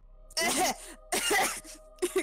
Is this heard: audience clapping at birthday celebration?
no